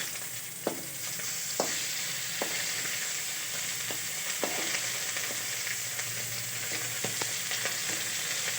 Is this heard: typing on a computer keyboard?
no